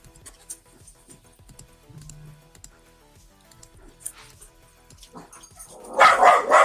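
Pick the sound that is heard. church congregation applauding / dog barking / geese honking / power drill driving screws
dog barking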